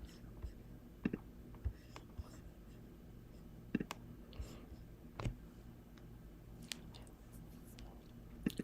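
Sharp, quiet computer mouse clicks come at scattered moments against a low hum, with a faint whisper of talk in the background, while working in Cricut Design Space.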